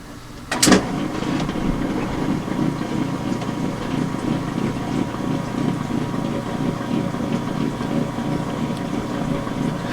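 A washing machine kicks in to drain: a sharp click, then a steady, moderately loud pump hum with a faint, regular pulsing churn that keeps running to the end.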